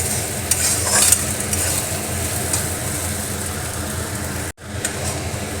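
Salt, ginger and green chili paste being stirred in a hot pan, a continuous close sizzle with scraping stirs, broken by one brief cut near the end before the frying resumes.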